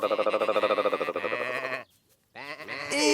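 A lamb in a children's cartoon bleats loudly and clearly in a long quavering call, goes briefly quiet, then bleats again.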